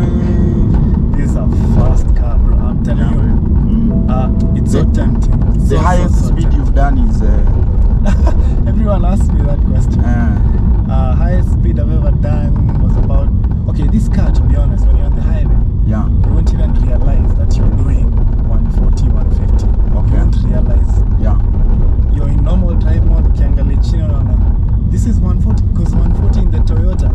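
A BMW M3 E92 rumbles steadily from inside the cabin while driving, its deep, continuous engine drone running under almost constant talking from the occupants.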